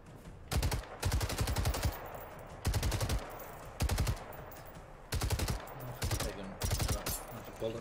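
Automatic gunfire in the video game Generation Zero comes in about eight sharp, rapid bursts separated by short pauses, loud and close.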